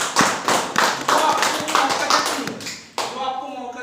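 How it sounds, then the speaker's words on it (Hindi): An audience at a marketing company event gives a loud round of applause in bursts of sharp, close claps and slaps that thin out toward the end. "1 सेकंड एक बार जोरदार ताली चाहता हूं।"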